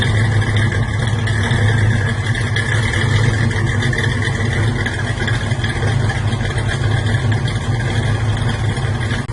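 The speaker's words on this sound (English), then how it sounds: "This is idling at" A cold 454 big-block V8 engine in a 1977 Chevrolet K5 Blazer idles low at about 600-700 rpm, a constant deep rumble with a slightly rough, choppy texture, close by and loud, with no talking.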